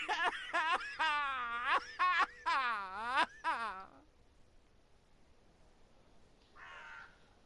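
A crow in the game Chapters caws loudly and close in a rapid run of harsh, wavering calls for about four seconds, then falls quiet apart from a faint, brief rustle near the end.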